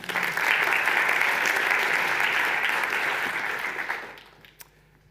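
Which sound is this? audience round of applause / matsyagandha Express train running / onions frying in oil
audience round of applause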